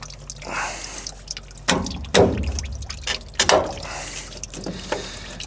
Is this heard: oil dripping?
yes